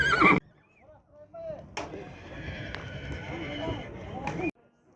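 A horse at the Kyzylorda livestock market gives a short whinny amid market bustle, with a brief loud burst at the start and people talking nearby.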